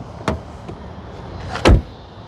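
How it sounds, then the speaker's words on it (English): The door of a 2025 Kia K4 EX shuts with a solid, muffled thud, preceded by a lighter click, against a quiet outdoor background. "let's listen to the sound of the closing door."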